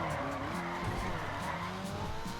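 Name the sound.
car drifting and tire squeal in a video game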